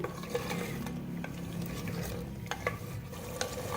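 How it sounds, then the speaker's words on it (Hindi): Mutton sears on medium flame in half a cup of oil for a potato mutton curry, with a low, quiet frying hiss and occasional soft stirring clinks; no one speaks. "गोश्त को हम मीडियम फ्लेम पर भून रहे हैं।"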